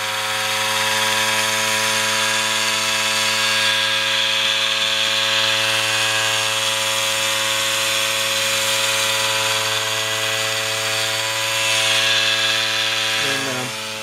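A Merkaba coil pulse motor, fed 12 volts from a power brick, spins steadily at high speed near 6,000 RPM, giving a loud, continuous electric whine with a sustained buzzing hum that holds for the whole stretch and shifts slightly near the end.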